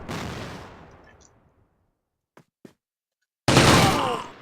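Gunfire in the video game CrossFire: a loud shot decaying into a long tail, two faint brief pops, then another sharp heavy blast that rings out.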